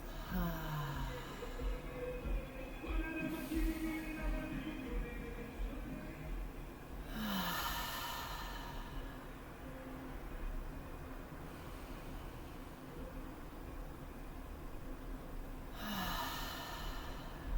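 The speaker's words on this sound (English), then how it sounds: "Inhale through your nose. Hold it in for a moment at the top. See if you can expand. Take in a little bit more air. And then exhale through your mouth." Slow deep breathing during a yoga session, air drawn in through the nose and let out through the mouth, with three or four soft breath swells spaced several seconds apart over a low steady background rumble.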